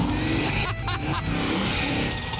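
Engine of a 1988 Ford Mustang revving loudly at a race strip, a deep, steady roar held close with a brief dip mid-burst, sounding like a Harley.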